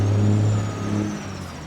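A modded truck's engine in Farming Simulator 22 runs with a steady low drone and a rising, then easing rev, heard up close and alone.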